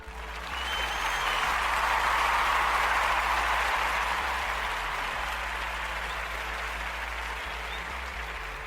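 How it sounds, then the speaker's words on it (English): Steady applause from a crowd, a dense wash of clapping that swells quickly and then holds, slowly tapering over several seconds. "let's give her some applause"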